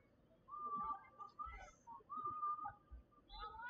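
Referee whistle at a high school girls lacrosse game, sounding as a few sharp, sustained tones with short gaps, heard outdoors over crowd and field noise.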